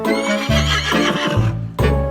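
A horse neighs loudly and close up, one long wavering whinny that breaks off briefly, then resumes. No one talks.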